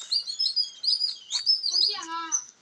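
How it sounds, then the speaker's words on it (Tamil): A small sparrow chirps rapidly and repeatedly at close range, bright high tweets in quick bursts, with no other sounds around it. "மைனா இல்லை, குருவி தான்."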